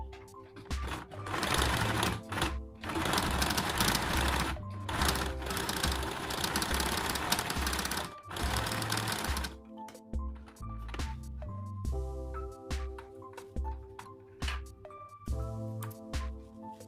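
A sewing machine runs in long continuous bursts while stitching elastic into a frock, loud and close, its rapid motor drone broken by short pauses and rhythmic mechanical thumps.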